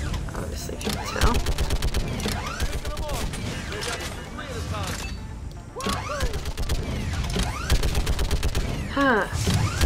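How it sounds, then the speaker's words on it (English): A turret in Mass Effect 3 fires dense bursts of heavy gunfire with sharp impacts and zipping effects, loud and nearly continuous, mixed with a busy combat soundscape. "Defend it with this turret."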